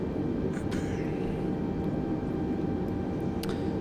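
Airbus A320NEO jet engines running in Microsoft Flight Simulator, a steady, loud, low engine rumble and whine throughout with a few faint clicks on top.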